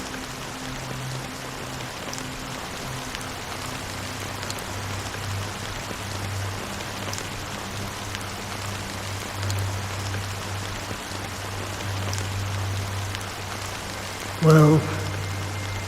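Steady rain falling in Honkai: Star Rail's Penacony setting, a constant even hiss with low background music and speech running over it, ending in a short, louder burst near the close.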